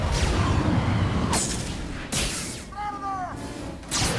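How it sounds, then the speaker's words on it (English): Gunfire aimed at a wall in a low-budget time-travel adventure: several sharp, loud shot bursts with crackling tails, separated by brief gaps, with a short whistling whoosh in between. "just keep shooting at that wall over there"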